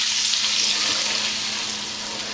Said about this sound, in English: Then you're gonna put your sauce in there.